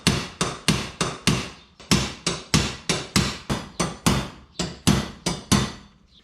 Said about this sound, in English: little punch, I'll hammer them down a little bit